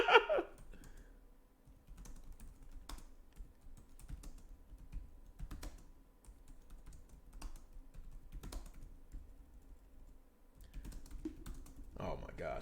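Steady keyboard typing runs through most of the stretch, clicks close and moderately loud, with a person's voice at the start and end.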